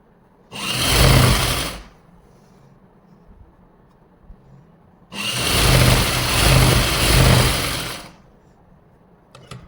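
Short bursts of a sewing machine stitching salwar fabric, two loud close runs of motor whir, the second longer with slight speed changes, separated by quiet pauses.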